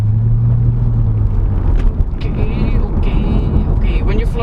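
Engine of a 2012 Chevrolet Corvette C6 Grand Sport sports car pulls as it accelerates, a loud, steady low rumble filling the cabin with a gradual rise in pitch.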